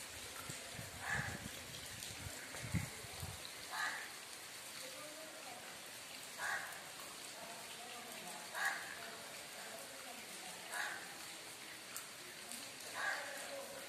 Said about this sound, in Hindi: सर्दी की बारिश देख लो, सारी रात होली बारिश होते होते बारिश चल रही है, सर्दी की पहली बारिश।